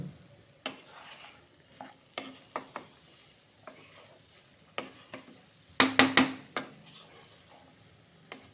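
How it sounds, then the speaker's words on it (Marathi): A spatula stirs and scrapes a Bhogichi bhaji vegetable dish with crushed peanuts in a pan, making irregular near scraping strokes over a faint sizzle, with a quick cluster of vigorous stirs partway through and no talking. "शेंगदाण्याचं कूट टाकणार आहे मी आता. छान परतून घेणार आहे."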